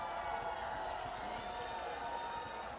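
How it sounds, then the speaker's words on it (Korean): A large crowd at an outdoor political campaign rally in Bucheon, South Korea, produces a steady wash of distant cheering and scattered clapping that stays fairly faint and even throughout. "다 함께 환호로 맞아주시면 되겠습니다"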